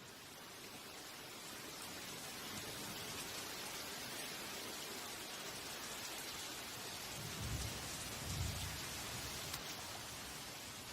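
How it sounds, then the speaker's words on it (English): Heavy tropical forest rain pours down steadily as a dense, even hiss, with low rumbles of thunder rolling in near the end. "The rain starts pouring down, like a harsh welcome to the real world."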